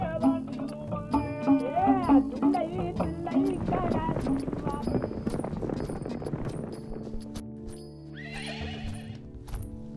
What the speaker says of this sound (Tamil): குதிரைகளின் குளம்பொலி கேட்டபோது அந்த பகுதி மக்கள் எல்லோரும் பயத்துடன் தலைதூக்கி பார்த்தனர்